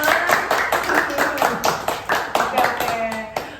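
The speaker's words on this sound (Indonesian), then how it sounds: "buat tepuk tangan dulu buat kita semua." A small group claps together in a quick, fairly even rhythm of sharp hand claps, close and loud, with voices talking over the clapping.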